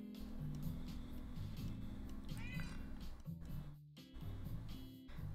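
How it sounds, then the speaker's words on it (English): A cat meows in a video game, several drawn-out mewing calls in a loose series over a busy background of game music and ambience, moderately close. "Okay, there's a cat there."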